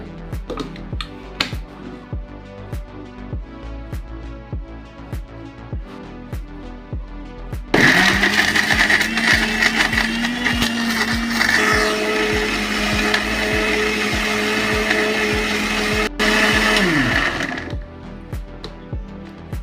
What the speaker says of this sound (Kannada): ಇದನ್ನ ನುಣ್ಣಗ ರುಬ್ಕೊಳ್ಳೋಣ ಬರ್ರಿ. ಇದನ್ನ ರುಬ್ಬಿ ಪೇಸ್ಟ್ ಮಾಡ್ಕೊಳ್ಳೋಣ.